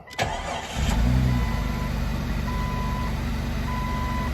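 An engine cranks briefly, catches, and settles into a steady, close rumbling idle, with a faint repeating beep in the background.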